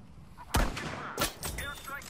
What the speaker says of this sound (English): Airstrike inbound, soldier. Be ready.